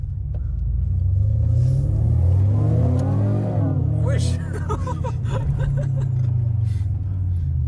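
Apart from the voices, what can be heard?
Renault Clio V6 engine rumbling and revving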